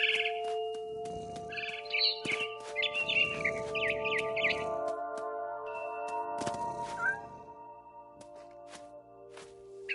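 A frightened bird chirps in a video game, giving quick, high twittering bursts over steady tonal background music, with a few sharp clicks and a final brief call, and no talking.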